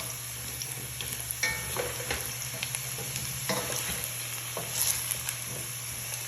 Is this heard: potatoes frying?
yes